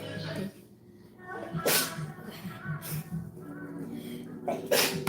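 A sneeze bursts out amid a woman's chatter, with a second sharp burst near the end, close and fairly loud.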